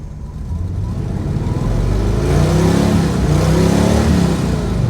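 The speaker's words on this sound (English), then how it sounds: "Give it some revs. It doesn't rev like it should." A square-body Chevy C-10 pickup with a 305 V8 revs up loud and close, its engine note climbing and holding steady with a slightly rough, weak edge.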